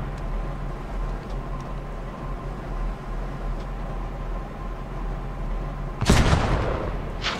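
A single loud tank cannon blast in the video game Post Scriptum erupts late, sharp and booming with a short decaying tail, over a steady low engine rumble.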